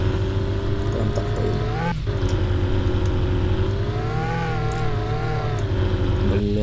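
An in-game car drives along in Car for Sale, a steady engine drone with a shifting whine holding at an even level throughout, with someone talking over it.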